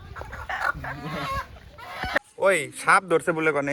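Two local country hens cluck and squawk close by, loud agitated calls mixed with people talking over them.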